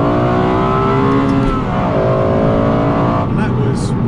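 A Lexus LFA's V10 engine pulls steadily at about quarter throttle, a loud, continuous rising drone heard from inside the car, with a brief dip partway through as the pitch shifts.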